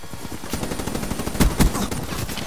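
Rapid automatic gunfire in Black Ops 3 from an HVK-30 rifle, a dense burst of sharp close shots in quick rhythm with a few louder cracks standing out near the middle.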